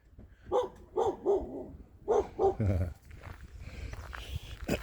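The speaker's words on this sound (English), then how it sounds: "What are you barking at?" A dog barks several times in short bursts nearby, mixed with footsteps and a voice speaking over the noise.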